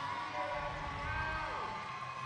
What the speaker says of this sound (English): crowd going wild for that single point for those MVPs